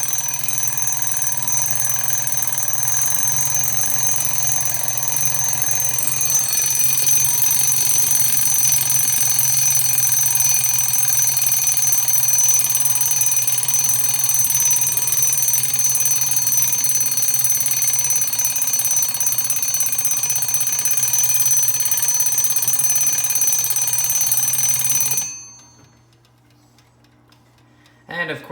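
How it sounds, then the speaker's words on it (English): Three vintage wind-up alarm clocks, a Sphinx, a Silver Bell and a Zelex, ring together in a loud, continuous, harsh metallic bell clatter for about twenty-five seconds and then stop abruptly, leaving near silence. "So that is the alarm for the Sphinx, Silver Bell, and the Zelex."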